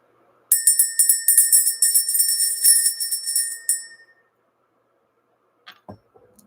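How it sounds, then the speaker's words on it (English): A ceremonial bell struck once, ringing loud and bright with a shimmering, sustained metallic tone that decays over about three seconds before fading to silence, followed by faint low handling noises. "Let's go ahead and ring the bell."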